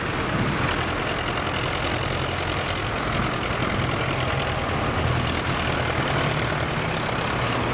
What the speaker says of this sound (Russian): Маленькие трактора активно все делают.